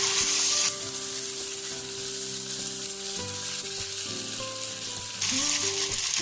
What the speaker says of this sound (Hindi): अब हम इसमें चिकन डाल देंगे। और इसको भी हम थोड़ी देर फ्राई करेंगे।